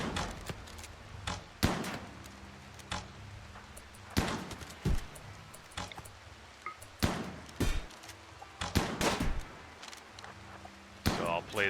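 Sharp, punchy gunshots ring out in the survival game Tribal Survival, spaced irregularly among thuds and impacts over about twelve seconds, with some shots coming in quick pairs.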